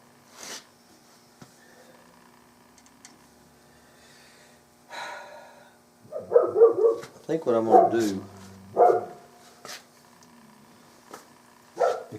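An old dog barks several times from close by, in a short burst of harsh, loud barks, while someone talks before and between them.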